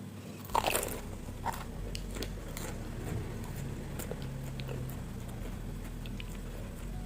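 Crunchy bites into a crisp, eggless deep-fried Indonesian snack with a crackly skin, a few sharp crunches near the start and lighter chewing after, heard close up over a low steady hum.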